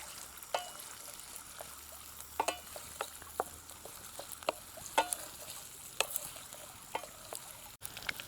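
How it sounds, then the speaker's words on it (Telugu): Onion and green chillies stirred in a frying pan for a snail curry, a soft low hiss broken by frequent sharp spoon clicks and scrapes against the pan at an uneven pace. "ఉల్లిపాయ అలాగే పచ్చిమిర్చి అనేది వేసుకోవాలండి లైట్గా ఇలాగ బాగా కలుపుకోవాలి"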